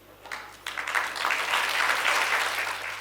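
Listeners at a Hindi poetry recitation about Bhagat Singh break into applause that starts with a few claps and quickly swells into full, steady clapping from a crowd.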